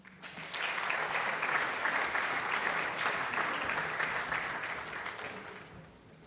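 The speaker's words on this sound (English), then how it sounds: "A round of applause for Leah," Audience applause welcoming student guests from an Intro to Human Services class, a steady sustained clapping that swells quickly, holds full for several seconds, then tapers off near the end.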